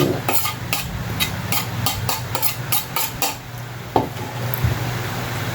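Red and white onions with green and red chilies being stirred in a pan for pork sisig; sharp spoon-on-pan scrapes and clinks repeat in a quick run over a low sizzle, then thin out to a few taps.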